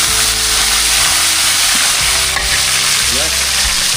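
Loud, steady sizzling of fish frying in hot oil in a pan, a continuous crackling hiss with occasional clinks of a utensil.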